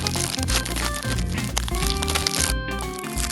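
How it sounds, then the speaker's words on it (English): A plastic bag is being cut into pieces, giving dense, loud crinkling and crackling plastic up close, continuous with sharp snips and rustles throughout. "All we need to do is cut this plastic bag into pieces"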